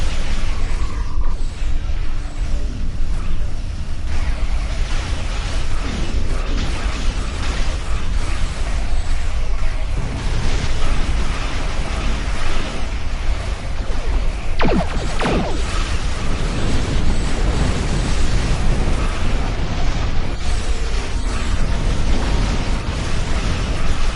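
Star Trek Online starship combat, a torpedo launch and explosions: a loud, continuous wash of rumbling blasts and mechanical noise, with a sharp burst standing out around the middle.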